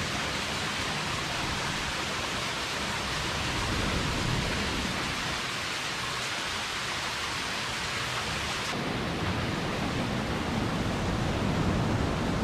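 A steady, dense roar of falling water fills the whole clip, loud and unbroken, like a nearby waterfall with no voices.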